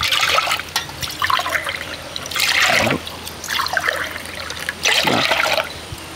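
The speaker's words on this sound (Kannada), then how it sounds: "ಈಗ ತೊಗರಿಬೇಳೆಯನ್ನು ಫಸ್ಟಿಗೆ ಚೆನ್ನಾಗಿ ತೊಳೆದುಕೊಳ್ಳುವ." Toor dal being rinsed by hand in water for a Konkani-style dal, with repeated bursts of swishing, trickling water separated by brief pauses, close and fairly loud.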